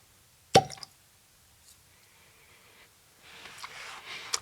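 A cork pops sharply out of a bottle of The Hearach First Fill Oloroso Cask Matured 2024 whisky, one crisp near plop followed by a brief squeak, then quiet room tone and faint rustling.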